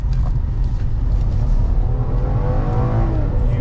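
A 2014 Ford Explorer police SUV's engine revs hard and climbs in pitch as it speeds up, loud and close, with road and wind noise underneath.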